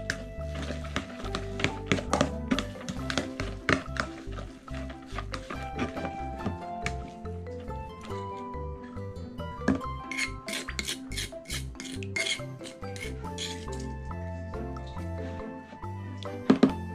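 Seasoned sago mixture stirred in a pan, with a busy run of scraping, tapping and clinking of a utensil against the metal that keeps up throughout, close and fairly quiet.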